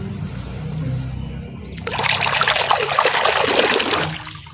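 Clean water pouring onto toy cars, trucks and trains as they are washed, a loud splashing stream that starts suddenly and runs steadily for a couple of seconds before easing off.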